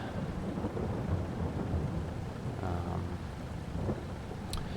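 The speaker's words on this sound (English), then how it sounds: "And there are our raindrops." Rain and rolling thunder in the video game Farming Simulator 22, a steady wash of rainfall under low rumbling thunder with no talk.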